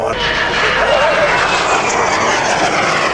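A Zéphyr naval aviation aircraft passes at an air show in Avignon, its engine a loud, steady roar close by, with an announcer's voice over it.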